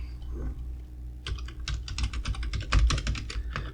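Quick keystrokes on a computer keyboard as a password is entered into a Linux terminal, a close run of light rapid clicks starting after a short pause, with no talking.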